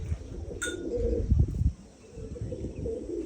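Pigeons coo with low, soft, throaty calls close by outdoors on a hot 42-degree day, alongside a brief high chirp and light rustling.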